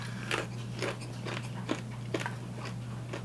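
Crisp crunches from biting into tiny pizzas, about seven distinct bites spaced roughly half a second apart, close and fairly quiet over a steady low hum.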